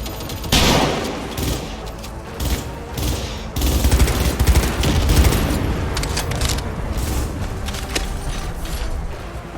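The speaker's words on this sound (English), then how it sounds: "Opening fire." Rapid gunfire in Cyberpunk 2077 rattles in dense volleys, machine-gun bursts and booming shots stacking into a loud continuous firefight with mechanical clatter.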